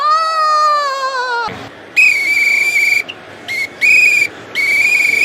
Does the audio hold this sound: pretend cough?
no